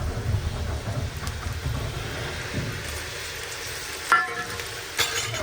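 Potatoes fry in hot oil for an onion-potato dish, a steady close hiss of sizzling with a couple of sharp utensil clinks near the end.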